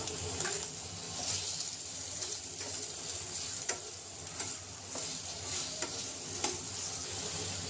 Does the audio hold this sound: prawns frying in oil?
yes